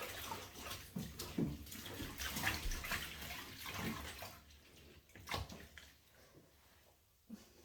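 Sloshing and splashing of a Melton wool hunt coat being worked in a few inches of bathtub water, irregular swishes and drips up close, fading quieter toward the end.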